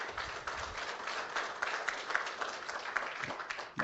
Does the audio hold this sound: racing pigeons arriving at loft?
no